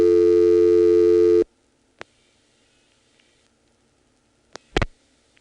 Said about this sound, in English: all you have to do is dial 49 to drop the register sender, and then dial what it would have dialed